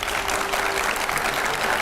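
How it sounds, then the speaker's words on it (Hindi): Studio audience of a television news debate show breaking into loud, dense, sustained applause that fills the whole short moment without any pause. "जोरदार तालियां उनके लिए"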